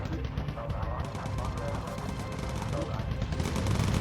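Machine gun fire from the gunners of a bomber in the Bomber Crew video game rattles continuously under heavy engine drone, with someone talking over it.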